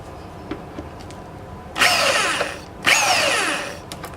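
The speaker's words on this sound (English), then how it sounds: "we're first just going to start out slow and steady. We don't want to drill too deep too fast." A power drill whirs in two short bursts, each revving up for about a second and winding down, with quiet pauses and small clicks between.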